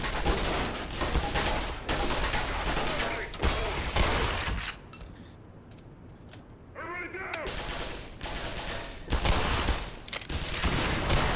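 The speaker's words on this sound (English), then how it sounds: "Oh, these turrets." Automated turrets fire rapid bursts of gunfire in the Black Mesa video game, loud dense volleys that drop away to a quieter stretch with a brief electronic chirp before the shooting resumes.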